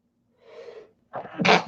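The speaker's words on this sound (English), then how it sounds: "I'm gonna sneeze." A single close sneeze: a soft breathy intake followed by a sharp, loud explosive burst.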